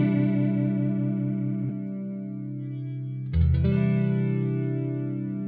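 Mode A of an Ibanez PC10 dual chorus pedal on a sustained guitar chord, a shimmering, wavering tone that decays, then a freshly struck chord swells with the same chorus modulation, loud and alone.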